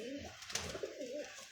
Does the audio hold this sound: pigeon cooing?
yes